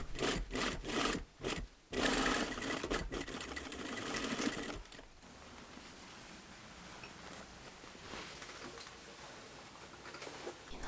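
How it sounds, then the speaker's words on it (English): A sewing machine stitches an elastic casing 3/8 inch from a previous seam on a milkmaid bustier dress, running in loud, rapid rhythmic bursts for about five seconds before a quieter, steadier hum. "Then do another stitch 3/8 of an inch away for your elastic casing."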